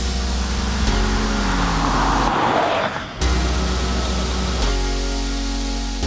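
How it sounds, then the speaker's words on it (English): A 2016 Honda Civic coupe with the turbo engine and CVT transmission, in sport mode, accelerates at full throttle from 0 to 60 mph with a loud, steady drone. It briefly dips near the middle, then carries on strongly. "we're going to do 0 to 60 now in the Civic Turbo with the CVT transmission"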